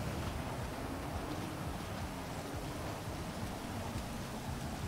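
Steady rain falls in the game GTA 5, a dense, even hiss of drops spread across the whole moment with no break, loud and close, with no voices over it.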